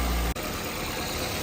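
A car engine runs steadily in an automotive lab, a continuous droning hum with no break except one brief dip near the start.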